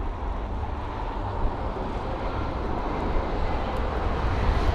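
A Finnair Airbus A320 flown by British Airways, registration OH-LXC, arriving at London Heathrow from Malaga: a steady, broad jet roar with deep low rumble, holding fairly constant throughout.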